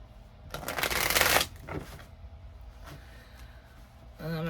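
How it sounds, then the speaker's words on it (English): A deck of tarot cards is riffled in one dense, crackling burst lasting about a second, followed by softer handling rustles and a short second ripple, then quiet room tone and a brief voiced sound at the end. "I'm having trouble shuffling"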